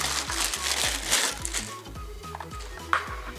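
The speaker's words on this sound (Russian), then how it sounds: "Достанем его из пакета." A USB 3.0 hub with seven ports is pulled from its plastic bag, giving dense, close crinkling and rustling that runs continuously with a few sharper crackles near the end.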